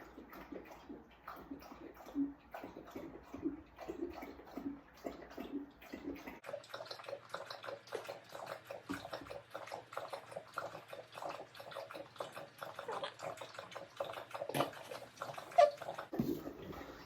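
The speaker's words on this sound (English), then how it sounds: "my dog's gonna drink water now." A dog laps water from its bowl indoors, giving a steady run of wet, rhythmic licks and soft drips that continue throughout at close range with no talking.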